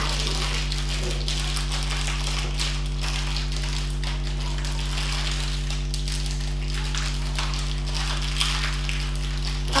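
Crinkly plastic packaging of a toy doll is tugged and struggled with in a series of irregular taps and rattles over a steady low electrical hum, with no voices.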